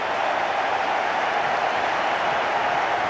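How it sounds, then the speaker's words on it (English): Crowd at a cricket ground applauding in a steady, dense wash of clapping that sounds broad and distant, holding evenly throughout. "Mark Waugh there, his brother, the right screen, standing and applauding."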